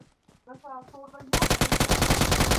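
Automatic gunfire in PUBG Mobile erupts as a rapid, loud burst of evenly spaced shots, preceded by a moment of voices talking.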